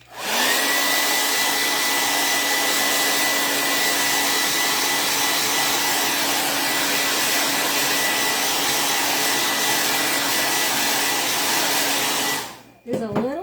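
A hair dryer blows on chalk paste on a Christmas reindeer craft, a loud steady whine close by for about twelve seconds before it switches off with a brief handling noise.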